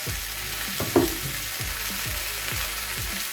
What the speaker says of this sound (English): I'm just gonna keep all these veggies moving around the pan